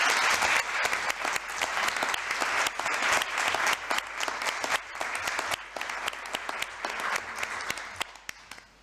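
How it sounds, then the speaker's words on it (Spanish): Steady applause from an audience at a 2022 International Women's Day equality conference honours an award winner, dense clapping filling nearly nine seconds before tapering off at the end. "Un aplauso para la premiada, si te parece."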